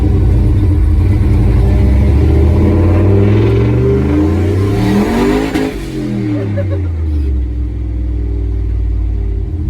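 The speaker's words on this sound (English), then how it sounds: "Probably have an exhaust leak stuck in here somewhere." A car engine with an exhaust leak after an LS engine swap revs up and down repeatedly with a rough, rumbling exhaust note, loud and close, sweeping pitch as it accelerates and eases off.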